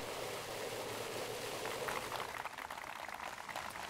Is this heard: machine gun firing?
no